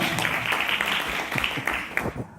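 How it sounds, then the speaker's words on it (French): An audience at a citizens' meeting in Conches-en-Ouche claps together, a dense, close burst of applause that holds steady before thinning out toward the end. "Merci Raphaël, on peut l'applaudir."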